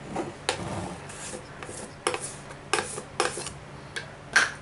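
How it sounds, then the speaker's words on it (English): Glass jar and utensils clink and scrape on a counter while oils go into a Pyrex jar for homemade lip balm, giving a series of about six short, fairly close knocks and rubs at irregular intervals. "I'm gonna start putting my oils in my Pyrex jar here."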